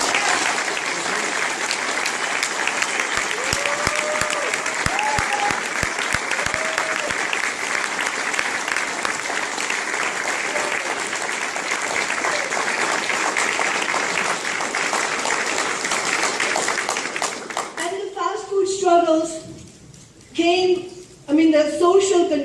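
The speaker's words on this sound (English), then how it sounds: "I really want to salute them with an applause" Sustained loud audience applause, dense clapping for most of the stretch before fading as a person begins speaking.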